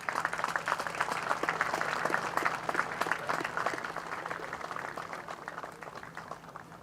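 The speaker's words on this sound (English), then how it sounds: "please put your hands together and welcome out to the court the event volunteers" A crowd at a beach volleyball finals event in Geelong claps for the event volunteers, producing dense, sustained applause that gradually thins and softens toward the end.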